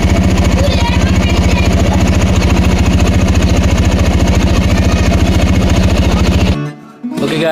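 A motorcycle engine idles close by with a loud, even, rapid putter that stays steady for several seconds, then cuts off abruptly near the end, followed by a brief clunk.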